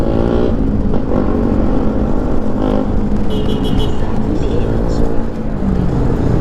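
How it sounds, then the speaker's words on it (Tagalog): Heavy road traffic around a motorcycle on a ride through Cagayan in the Philippines: a dense, continuous roar of engines and road noise, loud and close throughout, with voices faintly mixed in. "Sobrang traffic lang."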